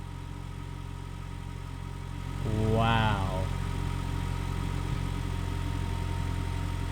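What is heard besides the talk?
car engine started and idling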